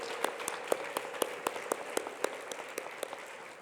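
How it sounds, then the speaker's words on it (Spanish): Applause for a birthday greeting during a university round-table event, sounding like scattered, rhythmic clapping from a small audience, fairly faint and steady for a few seconds without talk. "un fuerte aplauso para ella"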